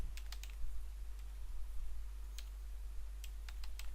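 Computer keyboard typing HTML code, sparse clusters of light key clicks over a steady low electrical hum, fairly quiet and close.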